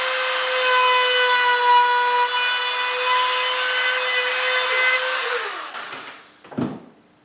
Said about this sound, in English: So I'm going to use the cutting tool on my Dremel.